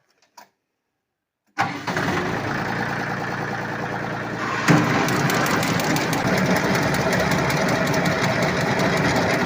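A tractor-driven diesel generator starts up after a short silence and then runs steadily, with a loud, dense mechanical drone that grows a little louder partway through and continues with no voices.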